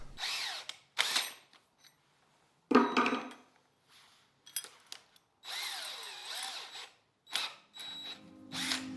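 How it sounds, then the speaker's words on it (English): A power drill fitted with a spade bit bores a countersink for a bolt in a wooden beam, coming in several loud whirring bursts separated by pauses, with small knocks in between. "what I'm going to do is use this spade bit to countersink the bolt"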